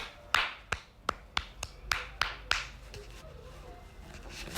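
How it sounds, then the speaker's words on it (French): About eight crisp hand claps ring out close by in a steady, evenly spaced rhythm, each a sharp snap, before the sound thins into quiet room tone with no talking. "Applaudissez-lui."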